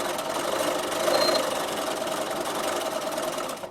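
A Bernina sewing machine with stitch regulator runs at an even speed, a loud continuous buzzing hum that holds steady throughout with no talk.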